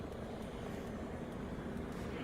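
A helicopter's rotors beat in a steady, dense roar that drowns the scene at a heavily policed site in news coverage, the noise constant and unbroken throughout.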